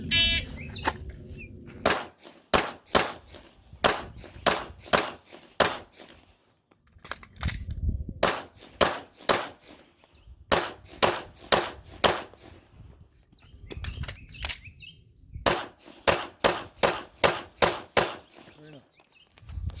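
Gunshots during a Casino Drill shooting exercise: rapid strings of sharp, loud shots in quick bursts of several rounds, separated by short pauses, repeated throughout.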